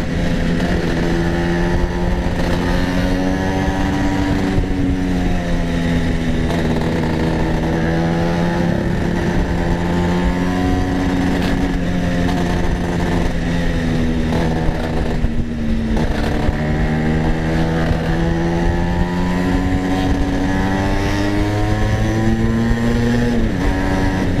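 A Vespa scooter engine drones steadily while riding, a loud continuous buzzing hum with slight pitch rises and dips as the throttle shifts, close and unbroken throughout.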